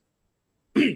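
A man gives one short, rough throat clearing close to the microphone, right after near silence.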